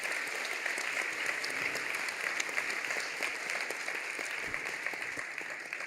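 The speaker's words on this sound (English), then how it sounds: "Can we get a round of applause for all of our panelists?" An audience applauds panelists at a global health and climate conference, a steady, dense wash of clapping from many hands that holds evenly throughout at moderate distance.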